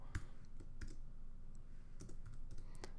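Keys on a computer keyboard are tapped in short, irregular bursts, each a crisp click close by in an otherwise quiet room.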